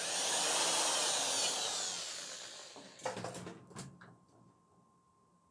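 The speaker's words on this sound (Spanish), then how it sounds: "marcamos y directamente hacemos un pequeño agujerito aquí" A small pilot hole drilled for a screw while mounting a digital TV antenna: a loud, steady whirring burst that fades out, followed by a few short clicks and knocks.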